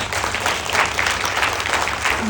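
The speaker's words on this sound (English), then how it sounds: "Can we give a big round of applause?" An audience in a room applauds, dense continuous clapping that holds steady and loud throughout, close and filling the space.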